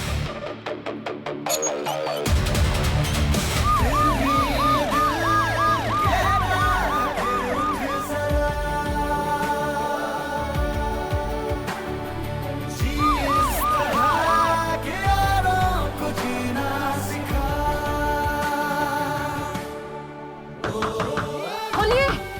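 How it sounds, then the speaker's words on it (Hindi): An ambulance siren wails continuously with rising and falling sweeps, loud and close, layered over a dense dramatic musical score with no talking. "देव, एम्बुलेंस लेकर जाओ, जल्दी पहुंचोगे।"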